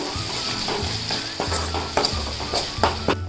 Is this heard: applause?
no